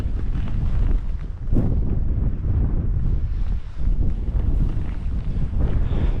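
Strong, gusty wind buffets the microphone at an exposed wild camp beside a Lake District tarn near Angletarn Pikes, a continuous loud roar with a brief sharper gust early on.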